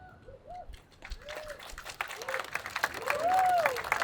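Audience at a youth advocacy press event in Harrisburg claps, starting scattered and swelling into steady applause toward the end, with a voice speaking over it.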